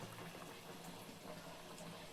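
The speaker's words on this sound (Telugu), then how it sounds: "పులుసు బాగా మరుగుతుందండి" Faint, steady bubbling and simmering of fish curry in a pot, with fish added to the boiling gravy, continuous with no talking.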